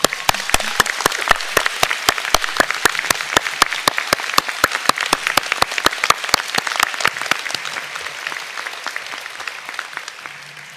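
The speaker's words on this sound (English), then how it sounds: "join me in congratulating you, our graduates, with the biggest round of applause" A graduation ceremony audience applauds steadily, many hands clapping in a dense, loud, continuous burst that carries on for about ten seconds before easing slightly at the end.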